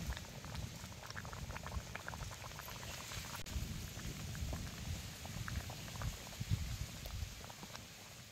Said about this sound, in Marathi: आता या आमटीला उकळी आल्या.